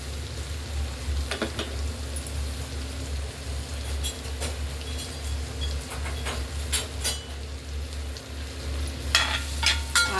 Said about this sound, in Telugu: ఆనియన్ పచ్చిమిర్చి కూడా వేసుకున్నాను.